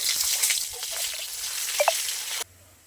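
Chopped onion hits hot oil for a Bengali koi fish curry and hisses with loud, close sizzling. A few pops and drips sound before the noise cuts off abruptly near the end.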